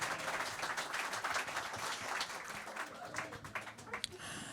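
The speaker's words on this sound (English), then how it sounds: "And with that round of applause, please keep it going." Jazz audience applauding, a dense faint wash of clapping hands with steady texture throughout and a voice faintly beneath it.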